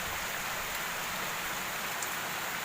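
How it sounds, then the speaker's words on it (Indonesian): Heavy rain falling by the Cimanuk river, a dense, even hiss of drops on surfaces heard from shelter, steady throughout and moderately quiet. "Hujannya deras"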